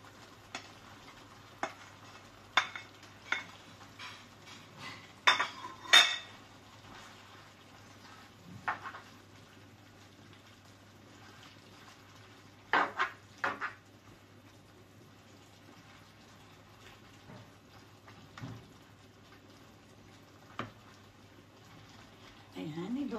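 Mushrooms being stirred in a pan for a salmon and mushroom cream dish, with soft sizzling and scattered scraping, clinking utensil strokes over a low steady hum, quiet and intermittent.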